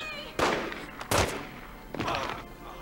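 Gunfire in The Godfather: Part II video game: three separate sharp shots spaced apart, each with a short echoing tail, moderately loud against a quiet background.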